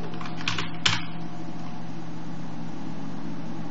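Short burst of computer keyboard typing while entering a sudo command, a few quick clicks followed by a background hum.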